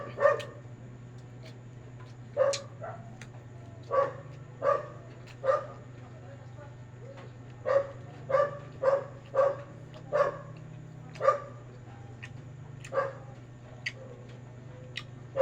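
A neighbour's dog barks repeatedly in short bursts, some single and some in quick pairs, over a steady low hum.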